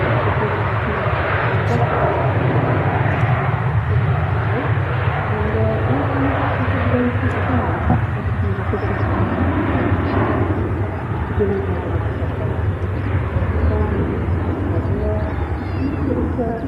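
A Ryanair jet airliner departs on a wet runway, its sustained low engine rumble and hiss continuing steadily, with people talking intermittently over it.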